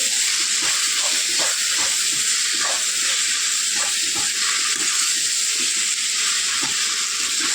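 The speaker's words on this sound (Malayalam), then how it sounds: "ഈ സവാള നല്ലതുപോലെ വഴറ്റി വെച്ചിട്ട് ഇത് നമ്മൾ ഒന്ന് ഇളക്കി" Onions being sautéed and stirred in a pan for a chicken roast, giving a steady steamy sizzle and hiss with regular scraping stir strokes, close and continuous.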